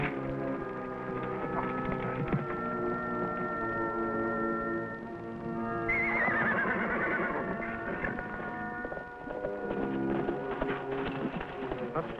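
A horse whinnies over distant clip-clopping hooves on a Western trail, with a sharp neigh rising midway above a bed of background music.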